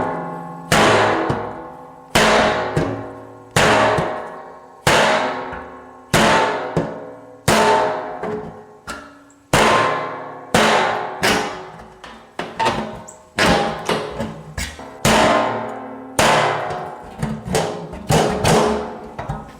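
A CRKT Kangee T-Hawk tactical tomahawk chopping into wood, about a dozen loud, sharp thunks struck at a steady, slightly quickening rhythm with short ringing decays between blows.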